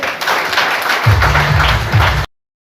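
An audience at a health product training session claps loudly and steadily, with a voice speaking over the applause midway before it cuts off abruptly.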